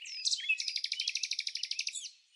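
A penduline tit calls, a clear, close song of one sweeping note followed by a rapid, even series of about fifteen high chirps, heard alone without any voices.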